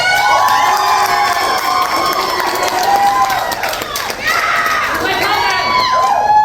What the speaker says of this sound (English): Give them their round of applause